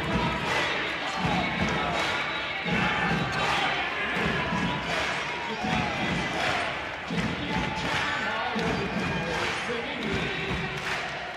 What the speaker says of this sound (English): The crowd rises to its feet.